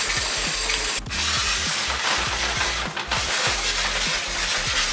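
Cleaner sprayed onto the blower wheel of a mini split HVAC unit during cleaning, heard as a steady broadband hiss running the whole time with brief pauses, over rapid ticking and rattling mechanical clicks, with no talking.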